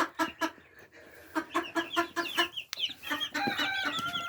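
Japanese bantam chickens cluck in a steady run of short, close calls, with a higher, brighter call near the end, no one speaking over them.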